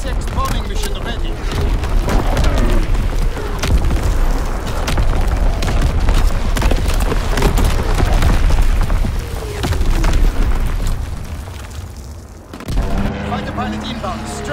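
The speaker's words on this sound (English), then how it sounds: "Incoming enemy artillery." Incoming enemy artillery in a video game: dense, loud, rumbling explosions and booms pound continuously, with a brief drop near the end before the barrage resumes amid game noise.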